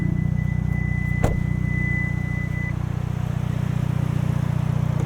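Two-liter turbo engine of a 2022 Hyundai Kona N idling under an open hood, a steady low rumbling drone with a faint high whine, close and constant, broken by a single short sharp click.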